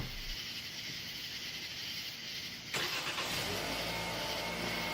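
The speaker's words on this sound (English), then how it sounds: "I started to drive off" A car engine turns over and catches with a sudden jump in loudness, then idles and runs steadily as the car pulls away, set against a constant hiss of night insects.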